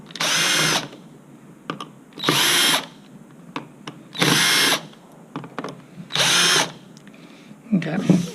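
A power screwdriver removes four screws from a Zip handle motor controller cover, whirring in short, evenly spaced bursts of under a second each, with quiet clicks and handling noise between them.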